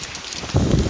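Heavy rain in Salem, Massachusetts, a steady wash that swells into a loud, close downpour about halfway through, with no one speaking.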